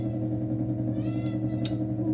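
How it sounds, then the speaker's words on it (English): A cat gives a short, thin meow over a steady low household hum, with a brief higher squeak near the end. "That's my cat."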